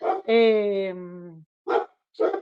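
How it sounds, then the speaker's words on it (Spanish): Dogs bark in short loud bursts: one harmonic, drawn-out bark or howl followed by two more sharp barks with pauses between them, close and clear with no talk. "Mis perros no han dejado de ladrar"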